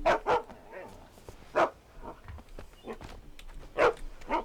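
A dog in the video game Alan Wake barks several times in short, sharp bursts, fairly close, with quieter whimpers and yips between the barks.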